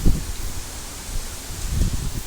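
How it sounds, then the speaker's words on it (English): Strong gusty wind outdoors rustles leaves in a dense, loud broadband roar, with low buffeting gusts hitting the microphone. "Why would it be so windy like this?"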